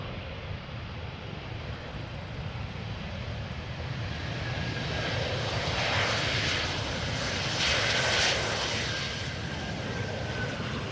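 Airliners landing on parallel arrivals at Amsterdam Schiphol Airport make a steady, broadband engine roar that swells in the middle as one passes near, then eases off, with no voices.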